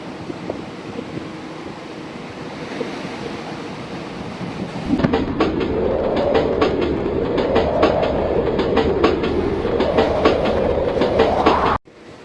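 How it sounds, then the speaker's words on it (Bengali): A nearly empty night passenger train running between Durgapur and Bardhaman, a steady rumble with wind noise, then rhythmic clickety-clack of wheels over rail joints and a rising hum from about five seconds in, close and loud. "আর সেই সঙ্গে আমাদের ট্রেন কিন্তু এখন এসে পৌঁছেছে তালিত জংশন।"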